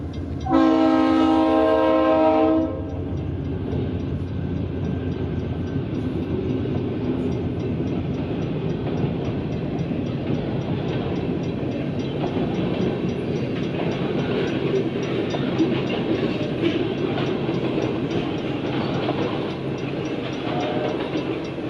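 A loud train horn blasts for a couple of seconds at a crossing in eastern Connecticut, then a long Providence and Worcester freight train rumbles and clatters steadily past close by.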